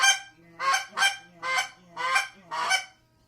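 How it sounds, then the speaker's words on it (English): A store-bought goose call blown indoors gives six loud, close honks in a steady rhythm, each a short nasal burst with rich harmonics, separated by brief pauses. "there was the goose call that he bought"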